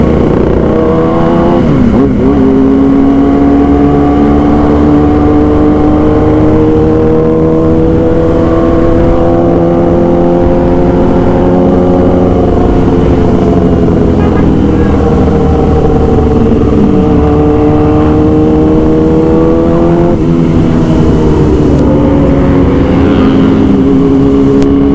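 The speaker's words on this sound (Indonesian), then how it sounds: "Biar nggak ngantuk ya, kita geber-geber tipis" A vehicle engine on an evening ride in Jakarta is blipped and revved lightly, a steady loud close drone with rising and falling pitch sweeps across the whole stretch, no voices.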